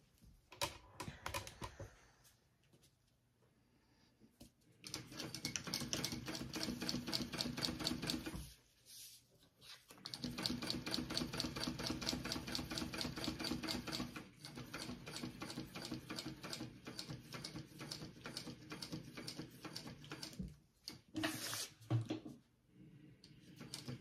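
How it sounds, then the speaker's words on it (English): A sewing machine stitching around a rectangle, long runs of fast steady needle chatter broken by brief pauses and a few thumps, close and fairly loud. "I'm going to sew around that rectangle."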